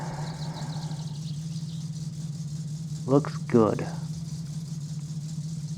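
A Datsun Satsuma car idles steadily after starting, a low even engine hum running throughout, with a person speaking briefly partway through.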